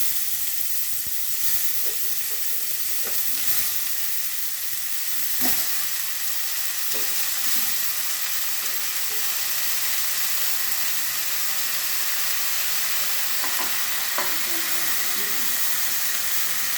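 Spinach sizzling and frying in a pan for a Bengali palong shaker ghonto, a steady loud hiss with a few soft clinks and stirring knocks scattered throughout.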